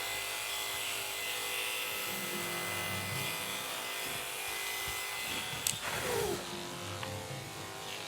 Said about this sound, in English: Back brush it and clipper it again